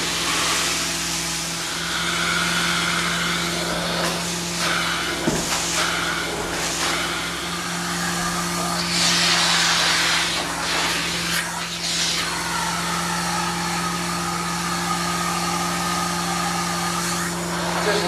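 A carpet cleaner's hose vacuums the bullnose edge of a carpeted stair, a steady loud suction roar with scraping and shifting hiss as the nozzle moves along, and no talking.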